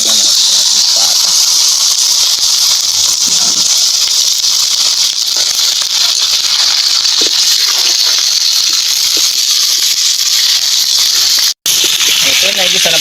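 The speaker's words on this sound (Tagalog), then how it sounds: "Gigisa mo na natin yung ating pata" Pork pata (pork leg) sautéing in hot oil with chili gives off a loud, continuous sizzling hiss that runs steadily throughout. It breaks off for one brief moment near the end.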